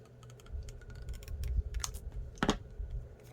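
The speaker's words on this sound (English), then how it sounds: "I'm just going to use long strokes on the scissors, not little chompy ones." Scissors snip through paper while cutting out a pumpkin stem, a close series of crisp irregular clicks and soft crunches in long strokes, with no talking.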